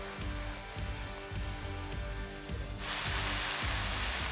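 Beef stock poured into a hot pan of softened mushrooms, first a steady clatter and bubbling, then a sudden loud, broad sizzle that swells and holds to the end.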